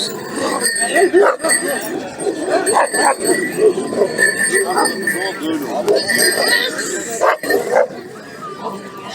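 Anatolian shepherd dogs at a dog show bark, yip and whimper in irregular bursts, close by, mixed with people talking.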